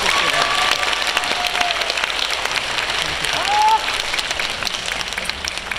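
A Korean Liberation Day 80th anniversary celebration crowd applauds a performing arts troupe with loud, steady clapping across the whole stretch, mixed with faint crowd noise and brief tonal squeals.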